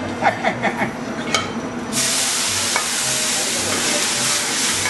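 A hot pan of port wine sauce for pistachio-encrusted rack of lamb flares into a flambé, with a few clinks and stirring at first, then a loud, steady rushing sizzle that runs on unbroken.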